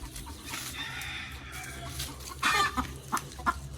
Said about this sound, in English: then put the rooster out here